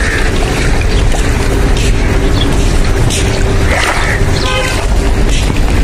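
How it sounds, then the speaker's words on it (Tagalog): An old motorboat at a harbour wharf on the Al Seeb seafront in Muscat, Oman, heard as a steady low engine rumble under continuous waterside noise, with faint voices nearby. "Lumang bangkang di motor."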